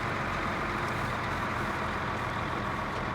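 A truck on heavier tires pulls under load with a loud, continuous, close engine roar that holds steady throughout, with no talking.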